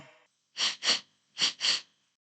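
Two pairs of sharp, loud sniffing inhales through the nose, close and isolated, like someone breathing in a scent deeply, preceded by a faint brief bit of sound.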